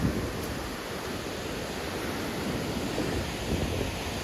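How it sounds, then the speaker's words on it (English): Nugget Falls, a glacier-fed waterfall near Juneau, Alaska, gives a steady, dense roar of rushing water that holds even throughout, broad and continuous with no voices. "that's Nugget Falls"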